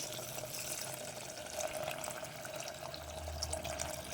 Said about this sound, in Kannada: ನೋಡಿ, ನೀರು ಹಾಕ್ತಾ ಇದ್ದೀನಿ